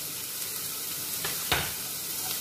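Onions and green chillies sauté in hot oil in a pan for egg curry, giving a steady close sizzle with a couple of brief stirring scrapes, no voices.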